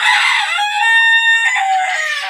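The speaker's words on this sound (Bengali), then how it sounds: "আর এখানে মুরগি আছে 20টা" A rooster crows loudly and close, one long drawn-out call that breaks into a second rising phrase near the end.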